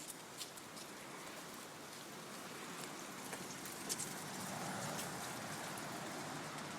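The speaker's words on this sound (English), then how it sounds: "It's a rainy day" Steady rain falls on a rainy day in Japan, a soft, even wash of patter with faint scattered drips throughout, no voices.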